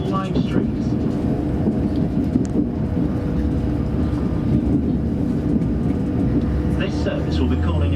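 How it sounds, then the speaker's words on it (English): A TransPennine Express train bound for Liverpool Lime Street runs with a steady, loud, continuous rumble, heard from inside the carriage with faint voices in the background. "Welcome to this Transpennine Express service to Liverpool Lime Street."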